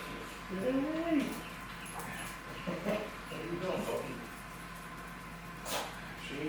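A dog whimpers softly in a few short, high whines, quiet and nearby, separated by pauses in a calm room.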